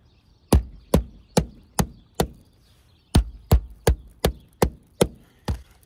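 A hammer knocks on a roof surface with light wrist taps while locating the rafters, two-foot spacing, before solar panels are attached. About a dozen crisp, close knocks come in two quick bursts, with no talking.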